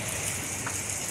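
Rain pours down on a city street during a live outdoor news report, a constant, close, fairly loud wash of falling water with no voices in the moment.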